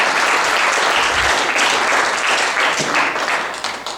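Sustained audience applause at a book launch, a full dense crowd clapping continuously for several seconds before tapering off slightly at the end.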